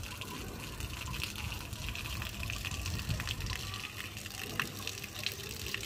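Water gushes steadily from a household motor pump, a continuous rushing splash close by, with faint voices in the background.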